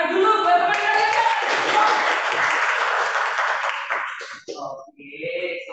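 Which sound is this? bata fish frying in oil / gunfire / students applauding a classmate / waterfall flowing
students applauding a classmate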